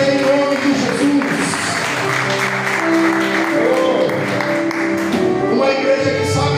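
A church congregation applauds in a dense, sustained wash of clapping, with music and sustained tones running underneath at a loud, even level.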